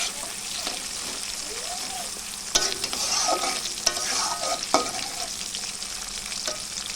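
Onions and green chilies frying in oil while being stirred, a steady bright sizzle with occasional scrapes and clacks of the spoon against the pan.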